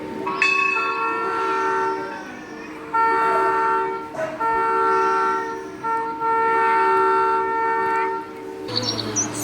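A real-life train horn gives a series of long, loud multi-tone blasts separated by short gaps, sounding close and clear above a quiet background.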